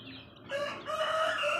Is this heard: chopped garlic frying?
no